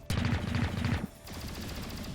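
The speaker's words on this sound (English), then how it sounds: "I could definitely use without those gunshots in my ear" Rapid bursts of gunfire from the video game XCOM: Chimera Squad crackle loudly for about a second, then give way to quieter, scattered shots and rumbling battle noise.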